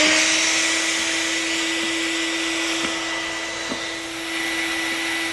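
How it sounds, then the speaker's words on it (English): A shop vac runs steadily, drawing air out from under the vinyl liner of a round above-ground pool through slotted tubes, a close continuous whine and rushing airflow with a stable hum. "Make sure your shop vac is properly grounded and turn it on."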